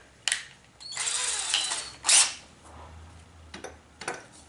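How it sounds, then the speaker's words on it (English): A power drill whirs a small hole through a wooden dowel rod in a couple of short bursts, close by, with brief pauses and small clicks between them. "So I need to drill a smaller hole"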